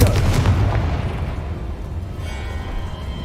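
A Confringo spell explodes in the video game Hogwarts Legacy, a loud booming blast with a rumbling tail that fades over a few seconds.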